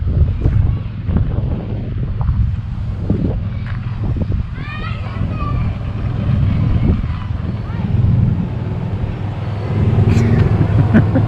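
A car on a test drive after a Marketplace purchase, its engine droning with heavy wind buffeting the microphone while people talk over it.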